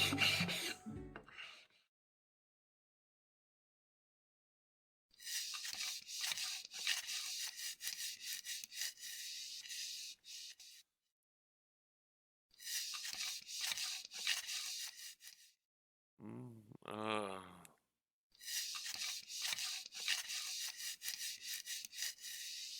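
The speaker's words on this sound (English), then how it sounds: "The simple repetitive work of sanding the mirror was enough to keep me awake a little longer." Repeated rasping strokes of sanding a mirror in a video game, several long bursts of scratchy rubbing separated by pauses, with a brief tonal chime midway.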